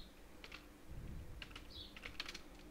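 Quiet typing on a computer keyboard, a few short bursts of soft key clicks in an irregular rhythm over low background hum, with no speech.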